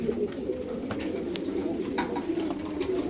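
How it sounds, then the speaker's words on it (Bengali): A male maxi racer pigeon wearing a leg ring coos in a low, steady murmur, with soft continuous warbling and a few faint scuffs nearby. "এখানে একটা মাক্সি রেসার নর কবুতর না এটা?"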